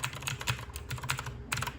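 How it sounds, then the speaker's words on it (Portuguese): HyperX Mars RGB mechanical keyboard with blue switches being typed on, a steady run of sharp, clicky keystrokes close up, fairly loud and alone with no voices. "para um teclado mecânico, como vocês podem ver, é um pouquinho barulhento"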